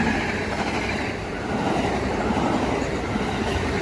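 Amtrak San Joaquin passenger train 717, northbound to Oakland, led by an SC44 locomotive with a cab car, rumbling past at close range as a steady, loud roar of wheels and rail noise.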